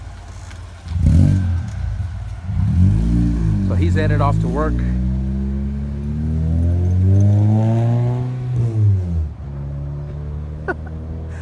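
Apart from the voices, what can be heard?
supercharged K20 wagon with full 3-inch exhaust revving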